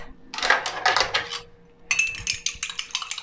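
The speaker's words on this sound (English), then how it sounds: "Beat them a little bit with a fork" A fork beats two eggs in a bowl for homemade dog food, with quick metallic clinks and scrapes in two close bursts and a short quiet gap between them.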